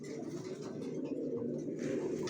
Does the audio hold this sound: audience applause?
no